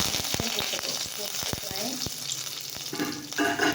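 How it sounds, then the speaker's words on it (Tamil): Curry leaves frying in hot oil for a garlic thokku, giving a steady close sizzle with scattered crackles and pops and a brief louder burst near the end. "கரலீஃப் மட்டும் போட்டு அதை எப்படி வைக்கிறதுன்னு பார்ப்போம்"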